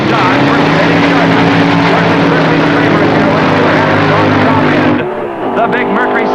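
At a 1966 drag strip in Tulsa, Oklahoma, a funny car race pits a Dodge against a Mercury Cyclone Comet, their engines a loud sustained roar with a sharp drop near the end, while an announcer talks over it.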